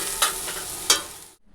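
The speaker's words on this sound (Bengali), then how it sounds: "এখানে বিনস আর আলু ভাজা হচ্ছে" Beans and potatoes frying in a pan, a steady close sizzle with two sharp stirring scrapes, then cut off abruptly.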